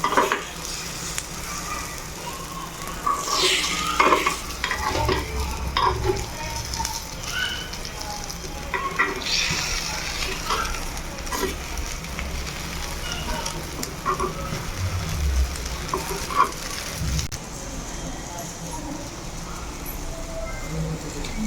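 Egg kuzhi paniyaram sizzles and fries in a pan with a steady crackling bed of sound, punctuated by occasional scrapes and clinks as the batter cooks.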